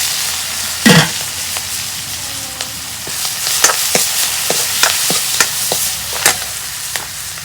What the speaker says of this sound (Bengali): তেল গরম হচ্ছে, দিয়ে দিব পেঁয়াজ কুচি